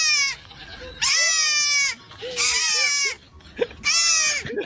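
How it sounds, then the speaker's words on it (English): A goat bleats loudly and close by in three long, wavering cries separated by short pauses, with a brief sharp knock between the last two. "I want a goat."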